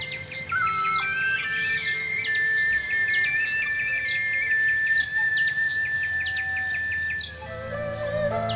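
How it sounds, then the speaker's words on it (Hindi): A bulbul, or nightingale, sings sweetly nearby: clear whistled phrases and rapid chirps rise and trill over a faint hum, with one long held note before the song breaks off near the end. "वहां से जाते वक्त उन्हें बुलबुल की मधुर आवाज सुनाई दी"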